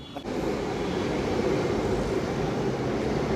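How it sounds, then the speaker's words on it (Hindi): A metro train pulls into the station with a loud, steady rumble and rushing roar that builds quickly after a brief quiet start and then holds close and constant. "पहुंच गए मेट्रो स्टेशन पे और पहुंचने के साथ मेट्रो भी आ गई है"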